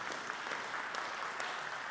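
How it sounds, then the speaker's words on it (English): Audience applause fills the room at a conference featuring speakers: steady, dense clapping from many hands, sustained throughout at moderate distance with no voices. "give them a round of applause."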